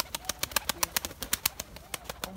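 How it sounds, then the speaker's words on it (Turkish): Pigeons in a flight loft aviary flap their wings in a quick series of sharp, rhythmic wingbeats, close and fairly faint, with no talk over them. "ufak ufak kuşlar iniyor zaten"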